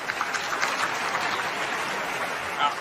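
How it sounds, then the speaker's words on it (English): An audience claps in steady, dense applause at a Western Conservative Summit 2023 workshop, heard at moderate loudness as a continuous wash of hand claps without any talk. "let's give them a round of applause"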